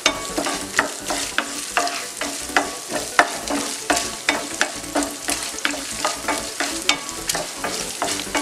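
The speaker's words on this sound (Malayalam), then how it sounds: "നല്ല ബ്രൗൺ കളർ ആവുന്നോടും വരെ ഇളക്കി കൊടുക്കണം." Chopped coconut and squid being stirred in a frying pan for a squid roast, steady sizzling under a regular rhythm of spatula scrapes and taps, close and fairly loud, with no talk.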